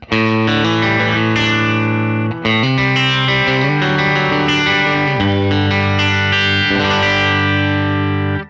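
A Fender American Ultra II Stratocaster on its bridge pickup plays full, sustained chords through an amplifier with a thick, slightly overdriven tone, loud and continuous with a few chord changes.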